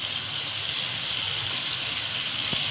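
Cooked chickpeas and their stock are poured into a pan of fried chillies, making a steady, continuous gushing pour of liquid close by, with no talking.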